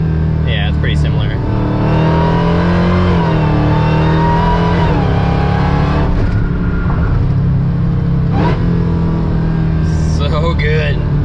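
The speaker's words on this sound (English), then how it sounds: "Sweet supercharger sounds." Supercharged Hellcat engine swapped into a Dodge Dakota pickup, loud and close, revving repeatedly with rising and falling pitch and a whining supercharger, with a voice speaking over it throughout.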